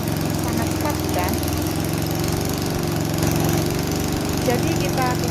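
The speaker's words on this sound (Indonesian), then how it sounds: "sehingga kita masukkan ke dalam mesin penggiling" A motorized grinding mill grinds peanuts and spices for Madiun-style sambal pecel chili sauce, giving a loud, steady, rumbling engine-like drone with a constant hum. Faint voices can be heard underneath.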